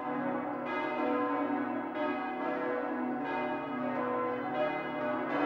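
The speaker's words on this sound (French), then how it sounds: "Le tocsin de la tour nord est la plus grande cloche du Moyen-Âge au Danemark" Church bells of Roskilde Cathedral in Denmark ring in a loud, continuous peal, large medieval and sixteenth-century bells from the north and south towers, with fresh strikes every second or so over a sustained, resonant hum.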